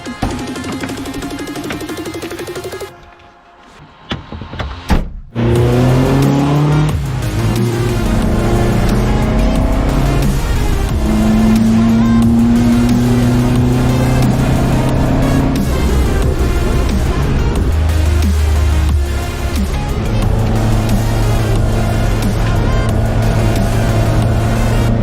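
Opel Ascona 400 Group 4 rally car recorded from inside the cabin, engine roaring loud and continuous with shifting revs, after a brief quieter moment near the start.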